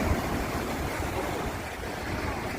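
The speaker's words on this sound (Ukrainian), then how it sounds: "Перший раз за весь час бачу тут хвилі." Sea waves in a normally calm bay at Sharm el-Sheikh on the Red Sea, a steady broad wash of surf with faint wind, moderately loud and even throughout with no voices.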